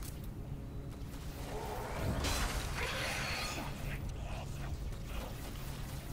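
A moving elevator in Destiny 2 hums and creaks with steady mechanical grinding, a louder surge of rattling midway, heard up close with faint game ambience around it.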